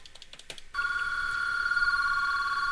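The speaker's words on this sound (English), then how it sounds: "We heard the phone ring." An IP desk phone rings during a test call between two extensions: a few short clicks, then a steady electronic ring tone that sounds continuously, clear and close, with no speech.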